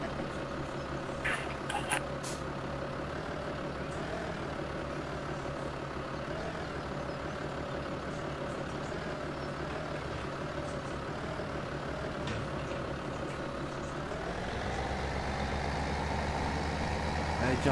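A video game tractor engine drones steadily at a low, even idle, then its pitch shifts and deepens near the end, with faint voices underneath.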